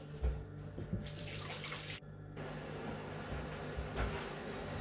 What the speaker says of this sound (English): now I've washed my hands